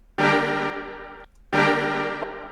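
A dense, low-pitched sustained orchestral string chord sample, pitched down, sounds twice, each swell held about half a second before cutting off, with no voices.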